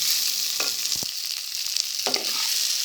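Onions for a crab curry sizzle steadily in a hot pan, with a few quick stirring scrapes of a spoon against the pan, close and clear with no talk.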